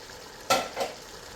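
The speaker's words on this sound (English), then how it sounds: "So let's just stir it here." Rice being stirred into a simmering tomato biryani masala in a pot, two brief scraping stirs over a low sizzle, close and soft, with no talking.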